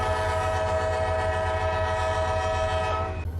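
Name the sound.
train horn in Run8 Train Simulator video game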